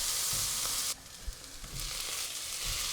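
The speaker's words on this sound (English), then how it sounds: "I'm going to add 3 to 4 garlic cloves and a little piece of ginger, all chopped up, and then I'm going to give this 1 minute." Chopped garlic and ginger with onions fry in a pan, giving a close, steady sizzle that drops abruptly partway through, then continues more softly with small stirring bumps, no talk.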